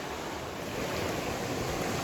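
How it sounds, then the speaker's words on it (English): Fast-flowing flooded river on the Appalachian Trail near Low Gap, Tennessee: a steady, broad rushing roar of water, loud and close throughout with no voices. "That river is really flowing"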